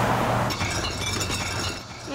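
A cartoon glass jar bursts from too many bubbles: a loud burst of breaking glass followed by tinkling shards scattering, with a voice briefly heard over it.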